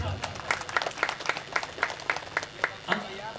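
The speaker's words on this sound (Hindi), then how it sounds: "जोरदार ताली" An audience at a Hindi devotional satsang gathering claps in distinct, fairly regular beats, roughly a dozen sharp claps close by, with a voice faintly underneath.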